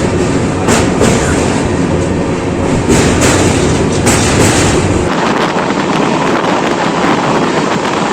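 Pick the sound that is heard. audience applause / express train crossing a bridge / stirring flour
express train crossing a bridge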